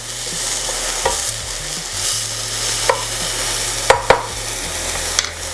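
Onion and garlic fry over medium-low heat in a pan for homemade tomato sauce, with a steady close sizzle and a few sharp clacks and scrapes of a spoon stirring.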